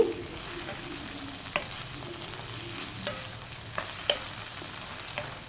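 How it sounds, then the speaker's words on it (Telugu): Ivy gourd pieces frying and being stirred in a pan, a steady soft sizzle broken by occasional scraping clicks of the spatula, close and moderately quiet with no talking. "దొండకాయలు కొంచెం వేగినవి మధ్య మధ్యలో కదుపుతూ ఉండాలి."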